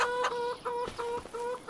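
Hens in Farming Simulator 25 cluck in a quick, uneven series of short calls, each a bright tonal note, close and clear with no talking over them.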